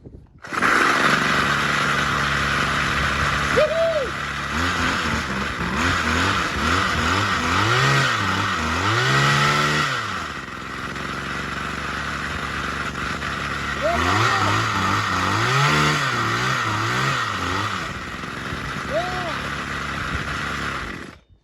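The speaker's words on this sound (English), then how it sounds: "this Titan petrol hedge trimmer TTL 688 HDC" A Titan TTL 688 HDC petrol hedge trimmer engine runs loud and close with a buzzy two-stroke drone. It revs up and down in repeated surges, drops to a lower idle in the middle, then climbs again before stopping.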